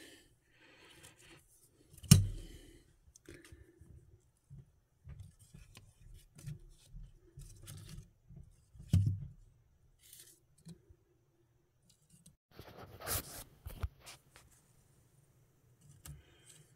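Scissors snip a plant out of a dart frog terrarium, giving two sharp close cuts several seconds apart among faint rustling of leaves and soil, followed by a scratchy burst of handling near the end.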